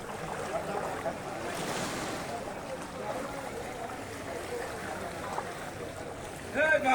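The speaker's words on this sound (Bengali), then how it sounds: "বাজার সব বন্ধ হয়ে গেছে, দোকান করে পানি উঠে গেছে, অসংখ্য পানি, পানি পাগলা নদীর স্রোত।" Floodwater from the Pagla river rushing through Jhenaigati market, a continuous broad roar of moving water with wind buffeting the microphone, and a louder surge near the end.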